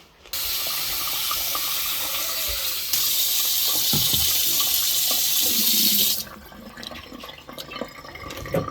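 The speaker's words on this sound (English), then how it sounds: "I add a little bit of water" Tap water runs steadily into a bowl to soak a pet's food pellets, a loud continuous hiss that strengthens midway and then cuts off, leaving quiet handling noises.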